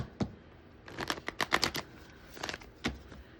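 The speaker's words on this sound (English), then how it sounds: "Go ahead and shuffle the clarifying cards here." Tarot cards are shuffled in quick riffling bursts, a few crisp flutters and snaps close up, with quiet pauses between.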